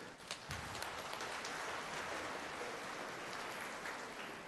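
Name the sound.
audience clapping loudly at a Mass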